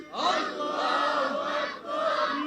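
A large crowd at an Islamic religious gathering roars back in unison after the takbir call, two loud sustained shouts, the second rising after a brief dip.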